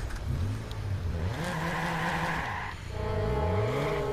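A car drives in the video game Watch Dogs, its engine humming and revving through rising and falling gear shifts, close and steady, with tires and road noise underneath.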